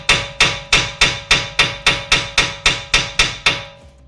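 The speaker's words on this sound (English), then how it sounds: "I'm going to tap the shaft with this little hammer" Small hammer taps the seized shaft of a Mini Countryman suspension strut, about twelve sharp metallic strikes at a steady, quick rhythm, close and clear with a ringing tone, then a brief pause.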